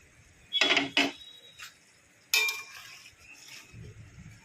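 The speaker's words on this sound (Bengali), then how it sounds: "ভালো করে নাড়িয়ে নিলাম" Dhokar dalna lentil cakes are stirred in a pot of gravy, giving a few sharp clinks and scrapes of a utensil against the pot between quiet stretches.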